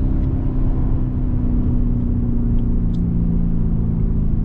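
A Lamborghini Urus with a 650 hp engine, driven in Dubai, gives a loud, steady, deep rumbling drone from the engine and exhaust from inside the cabin, with no distinct pops standing out.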